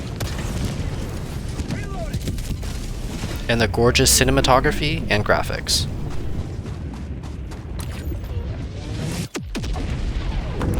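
Helldivers 2 game explosions boom and rumble in a dense barrage, loud and heavy in the middle, beneath someone narrating over the top.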